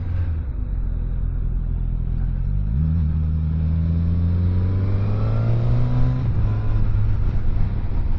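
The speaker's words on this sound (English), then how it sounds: "Also the exhaust sound" A Suzuki GSX-S1000 motorcycle engine drones and revs, its pitch climbing through several rises before dropping back, with a deep Yoshimura exhaust rumble underneath throughout.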